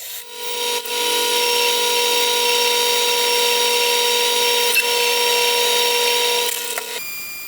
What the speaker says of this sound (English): I'm going to go ahead and follow that up with a 3/8 drill